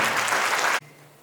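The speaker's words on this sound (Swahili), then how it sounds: "Haya makofi yatoe kwa Mheshimiwa Balozi" Loud, dense applause from a crowd that cuts off abruptly partway, leaving a faint low hum.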